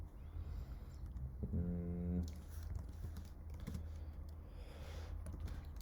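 Steady soft clicking of keys on a computer keyboard while coding, close and fairly quiet over a low background hum, with no talking.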